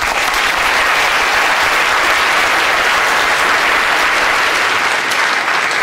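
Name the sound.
audience applause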